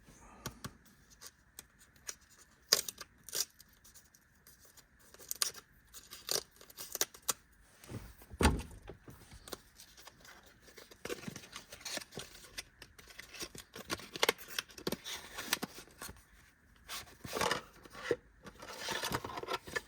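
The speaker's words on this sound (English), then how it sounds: "our VCI is still in the box. Let's go ahead and open it up." Someone unpacks the box of a Topdon Topscan OBD2 Bluetooth scan tool, close crinkling, tearing and rustling of cardboard and plastic in uneven bursts with no talking.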